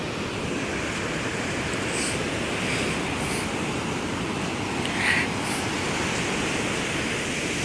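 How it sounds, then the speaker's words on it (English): Steady broadband surf from ocean waves rolling onto a sunny beach, a continuous wash of breaking water with gentle swells and a slightly louder surge near the end, with no voices heard. "Just wanted to show a little clip of the beach."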